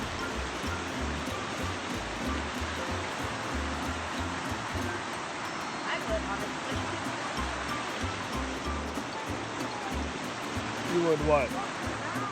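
A mountain creek in the Smoky Mountains runs with a steady, full rush of water that holds constant throughout. Voices speak briefly over the flow.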